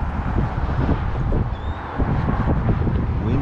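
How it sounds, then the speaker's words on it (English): Wind and rain outdoors on a cold, rainy fishing trip for flounder and redfish: a steady loud broadband rush of gusting wind buffeting the microphone with patter underneath, continuous throughout. "Windy, raining."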